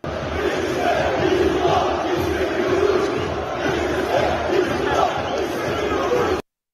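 Fenerbahçe supporters chanting in the stands during a derby against Trabzonspor in Kadıköy, a loud, massed roar of voices that carries on steadily throughout.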